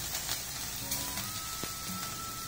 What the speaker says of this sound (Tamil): சோ இந்த மாங்காய் இஞ்சிய இந்த எண்ணெயில போட்டு லைட்டா ஃப்ரை பண்ணிக்கணும்.